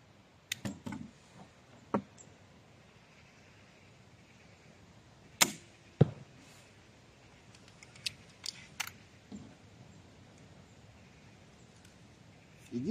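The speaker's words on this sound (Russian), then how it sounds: "По три стрелы выпустим, а потом к мишени подойдем и посмотрим." Bolts shot from a Doom Mini crossbow pistol outdoors at a target: several sharp, isolated snaps and thwacks spaced seconds apart over faint gusty background, fairly quiet overall.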